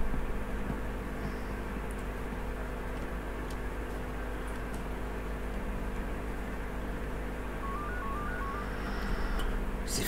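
Telephone dialing in the horror game Yuppie Psycho: a short run of electronic dial tones near the end over a steady humming office background, with a few faint clicks, no talking.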